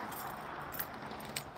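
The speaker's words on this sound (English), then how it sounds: "Get the keys." A bunch of keys jangles faintly in a quiet room, with two soft metallic bursts close together.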